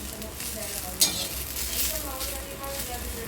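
Cluster beans (guar) stir-frying in oil with salt in a pan, making a constant close hissing sizzle, broken by one sharp scrape of a utensil against the pan.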